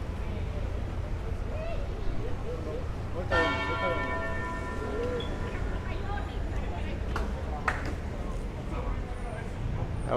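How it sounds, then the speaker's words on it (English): A loud church bell strikes out on a Bronx street in New York City in the evening, its ringing tone sustaining and decaying over traffic rumble and city noise, with people talking nearby. "That was a loud bell."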